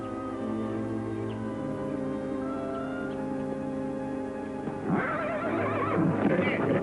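A horse gives a loud, shaky whinny near the end, over a steady droning background with low murmuring.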